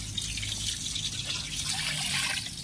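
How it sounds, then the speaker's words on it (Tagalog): Water splashes and trickles as people bathe a dog outdoors using well or rainwater. A continuous, fairly close hiss of pouring and dribbling water runs throughout with no clear talk. "busy sila magpaligo ng kanilang aso"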